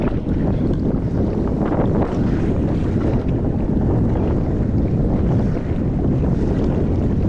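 Wind buffets the microphone while sea waves slosh around a fishing kayak off the Philippines, producing a continuous loud rushing roar with no speech.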